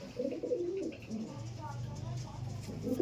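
Pigeons coo at a pigeon sale, low throaty warbling calls repeating throughout, mixed with a voice talking nearby.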